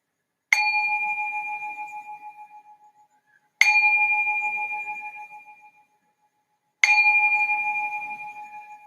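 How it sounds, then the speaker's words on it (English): A meditation bell struck three times at steady intervals, each clear metallic ring sustaining and slowly fading before the next strike, alone in a quiet room. "Now ring this bell to signal the start of the first session of meditation."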